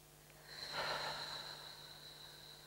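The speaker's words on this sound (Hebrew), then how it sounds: "נשימה עמוקה." A single deep breath during an EFT tapping exercise, a soft airy rush that swells and fades, close and quiet with a faint steady hum behind it.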